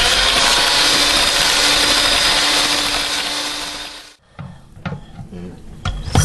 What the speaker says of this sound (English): we're going to blend this up again